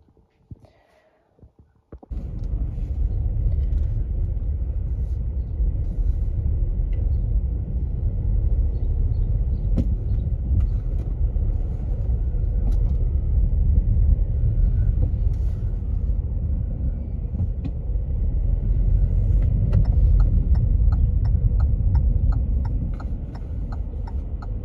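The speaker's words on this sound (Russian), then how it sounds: "Сколько машин-то? Откуда их столько и взялось-то?" Busy street traffic rumbles continuously as many cars pass, a loud steady low roar with slight swells, beginning after a couple of seconds of quiet clicks and lasting to the end without voices.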